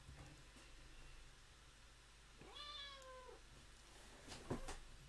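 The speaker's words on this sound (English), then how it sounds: "I've got a cat here meowing at me." A cat gives a single clear meow near the middle of the clip, a rising then falling drawn-out call, faint against a steady low background hum, with a brief soft knock afterward.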